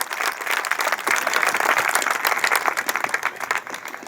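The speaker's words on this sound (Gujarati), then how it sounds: "તમામને હું તાળીઓથી વધાવવા માંગુ છું કે તેમનું તાળીઓ પાડી સ્વાગત કરે" An audience at a human rights committee function in Gujarat applauds steadily, many hands clapping in a dense, even wash that holds for several seconds before easing slightly.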